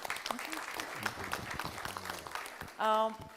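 A conference audience applauds the president at an Islamic finance event in Geneva; the clapping is faint and sits beneath a speaking voice throughout, ending with a brief, louder tonal sound.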